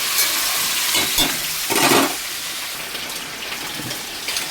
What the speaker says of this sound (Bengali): চিকেনটা ভাজা ভাজা হয়ে গেছে।